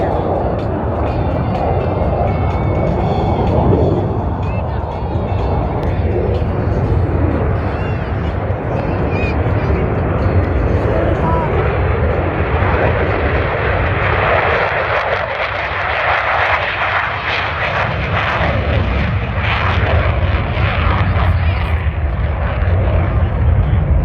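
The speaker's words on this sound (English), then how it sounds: "Look at the afterburner. Launch of 2 F/A-18 Hornets And F-35." Two F/A-18 Hornets and an F-35 launch on afterburner at the MCAS Beaufort Airshow 2023, a loud, sustained roaring thunder that swells and rumbles continuously throughout, with spectators talking underneath.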